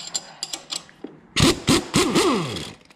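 An impact wrench removes lift-kit bolts on an Indian Challenger motorcycle, firing several loud, close rattling bursts, each ending in a falling whine, after a quieter stretch of clicking and handling noises.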